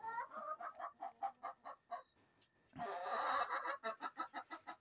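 Chickens cluck in short rhythmic bursts close by, with a brief busier flurry of clucking midway.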